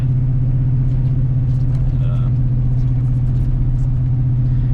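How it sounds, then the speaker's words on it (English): A Ford OBS muscle truck's engine cruising in drive at about 40 mph, a steady loud low rumble and drone with road noise throughout and no clear revving. "Yeah, right now the truck is just in drive."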